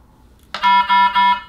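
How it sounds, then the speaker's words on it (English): Ultrafiltration machine alarm during an occlusion: three loud, evenly spaced electronic tonal beeps, each about a quarter second long, sounding alone after a brief silence. "Alarm will clear after occlusion is remedied."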